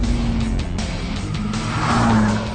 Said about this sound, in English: Twin that with the noise you get, which, admittedly, having the roof off, makes that V6 pretty awesome.